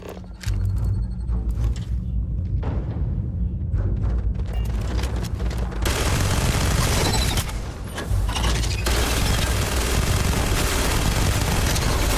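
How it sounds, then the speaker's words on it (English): Heavy gunfire in the video game Starfield: Shattered Space, a dense, continuous barrage of shots and mechanical clatter that grows louder and busier partway through, with no talking. "That is a lot of shooting in one of them."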